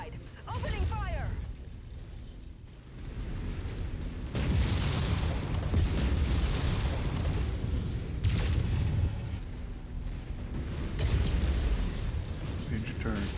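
Mech weapons keep firing and explosions boom and rumble steadily in MechWarrior 5 during a city battle, loud and continuous with little break.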